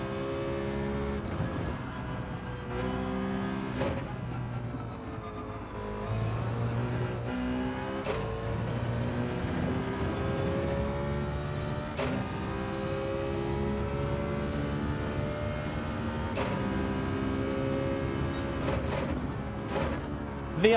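A car engine in Gran Turismo 7 revving and barking through repeated downshifts, with sharp blips between gears and a steady engine drone throughout, loud and close with no talk.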